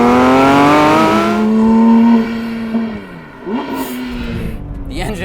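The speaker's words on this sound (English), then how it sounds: "The engine revs up so incredibly quickly." A 2024 Porsche 911 S/T engine revs up fast and loud, its tone climbing steeply and then holding at a high pitch before dropping away. Lighter mechanical noise and faint road sounds follow.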